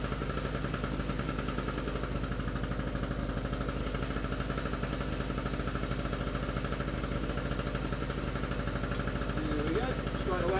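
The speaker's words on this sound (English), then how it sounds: "we're back in business with our little generator there" Small SIP two-stroke portable generator running steadily close by, a continuous buzzing engine drone with a fast regular pulse and no breaks.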